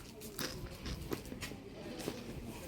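Faint, irregular crunchy bites and chewing, a few soft crackling snaps over a quiet background hiss.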